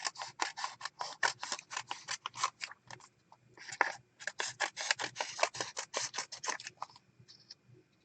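Scissors trimming a collaged paper card, a close, quiet run of rapid crisp snips in quick bursts, with a short pause midway.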